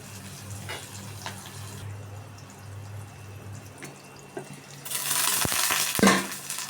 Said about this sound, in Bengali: ভালোভাবে নাড়তে থাকি।